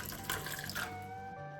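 Boiling water poured over yoghurt pots, lids and utensils to sterilise them, a close, continuous splashing stream of liquid that tapers off at the end.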